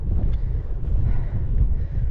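Strong wind buffets the microphone on an exposed fell above Wastwater in the Lake District, a steady low roaring rumble that fills the clip without a break.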